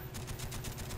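Rapid automatic gunfire rattles in a fast, even stream of shots in a Gun Game match of an online shooter, steady and close throughout with no talk.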